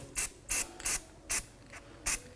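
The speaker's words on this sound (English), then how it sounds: "I'm just going to use a little anti-seize spray." Five short hissing bursts from an aerosol can of anti-seize spray, applied during a brake job on a Volkswagen GTI, evenly spaced in quick succession, close and fairly loud.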